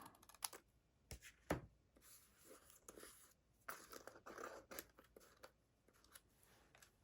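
Paper snips cut through a sheet of paper in quick, close, crisp clicking snips, several irregular cuts with pauses between and no talking.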